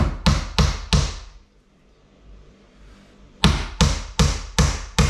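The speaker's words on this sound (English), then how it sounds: "Whack a nail in here." A hammer strikes a nail during renovation of a long-abandoned property, four sharp close knocks in quick succession, a pause, then five more evenly spaced blows, with no talk.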